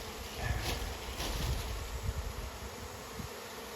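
Wild honeybees swarm around a hive box kept in the forest, giving a steady, dense buzzing hum that fills the scene with louder passes as individual bees fly close.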